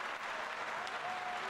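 A brief burst of steady clapping, like a small crowd applauding, continuing evenly for a second or two.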